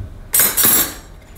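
Cutlery is handled in the rack of a Blomberg LDF30110 dishwasher, two quick bright metallic clinks close by, then quiet.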